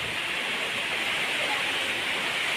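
Heavy rain pours down in a dense, steady broadband roar with water leaking and dripping, continuous and loud with no distinct pauses and no voices.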